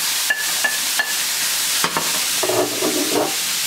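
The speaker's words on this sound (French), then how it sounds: "les lardons sont en train de revenir, ils n'ont pas rendu beaucoup de graisse. Moi je vais quand même rajouter mes oignons." Lardons browning in a pan with onions added give a steady broad sizzle throughout, broken by a few sharp stirring clicks and a denser crackle near the end.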